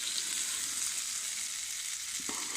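A mixed pickle mixture fries in hot oil, making a dense, even sizzle throughout, close up, with a brief clink near the end.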